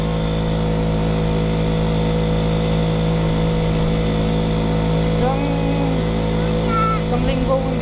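Kawasaki HD3 two-stroke motorcycle engine runs steadily while riding, a continuous buzzing drone with a brief rev rise near the end, heard close and loud with wind noise.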